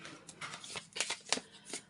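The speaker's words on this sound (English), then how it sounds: "I'm just going to shuffle this down." A deck of cards is shuffled close by in a few quick riffling bursts, soft and crisp with no talk.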